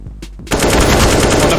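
Gunfire from Counter-Strike: Global Offensive in a G2 versus Navi grand final match bursts in as a loud, rapid automatic volley after a brief quieter moment, sustained to the end.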